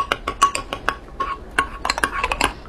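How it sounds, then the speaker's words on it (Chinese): Utensils stir food mixed with freshly boiled hot water in a dish, giving a run of close, quick clinks and scrapes against the bowl, clear and fairly steady, with no talking. "刚烧开的热水， 然后搅拌。"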